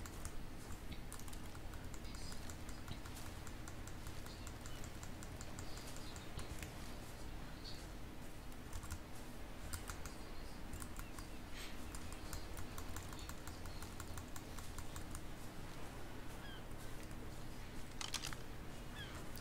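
Rapid, steady clicking of keys on a wireless computer keyboard, with occasional mouse clicks, continuous and fairly quiet throughout, with no speech.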